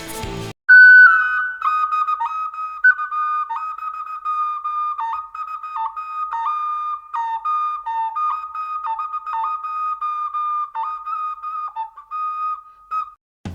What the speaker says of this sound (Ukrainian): Свищик це маленька фігурка пташки або тваринки, які свистять, коли в них дути.